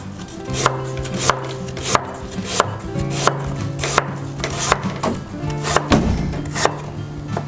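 Knife chopping a peeled apple on a wooden cutting board: a steady series of about a dozen crisp, close, evenly spaced chops, with no talking.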